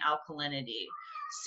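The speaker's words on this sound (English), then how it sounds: "sorry, that was my cat." A house cat meows once, close and clear, cutting across a woman's speech about garden soil.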